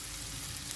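Cumin seeds fry in hot oil in a pan for a paneer masala, giving a steady, soft, close sizzle that holds even from start to end.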